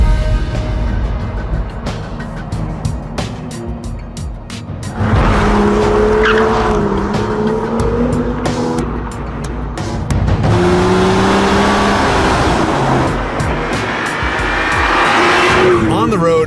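A BMW M2 F87 drives hard on the road, its engine loud and revving through rising and falling pitches, with tire squeal and a voice talking over parts of the run.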